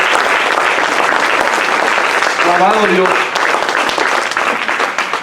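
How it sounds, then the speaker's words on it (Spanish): A church congregation applauds God during a service, loud sustained clapping filling the space while a voice speaks over it. "Den un aplauso al Señor."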